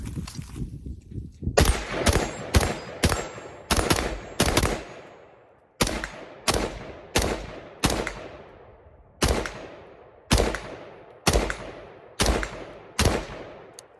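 A PSA 11.5-inch AR rifle fed from a drum magazine fires loud, close bursts at steel targets, with roughly a dozen sharp shot clusters in quick rhythmic succession, each trailing into a brief echoing decay.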